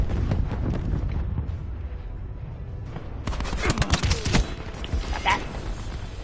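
Gunfire in a multiplayer video game: a sustained burst of rapid shots crackles close by for about a second, then scattered single reports follow amid wind-like rushing noise.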